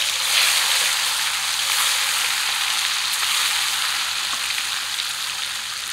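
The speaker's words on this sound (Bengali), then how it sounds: "এখন যে কয় পিস বাকি আছে এগুলো একবারেই ভাজবো।" Pieces of deshi rohu fish, the belly cuts, frying in oil in a kadai, a loud, steady, dense sizzle that carries on unbroken with no voices.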